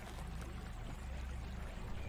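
River water flowing steadily near a village, a continuous low rushing wash that stays even and close throughout with no voices.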